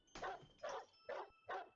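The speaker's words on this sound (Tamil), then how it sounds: "உடனே நாய் வேற இருக்குது." Four evenly spaced barks from a dog in the Happyhills Homicide video game, short and sharp, moderately quiet, with clear gaps between each.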